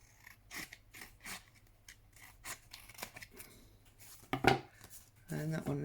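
Scissors snip along an edge in a few quick, crisp cuts at close range, separated by quiet pauses, with a louder rustling handling sound near the end.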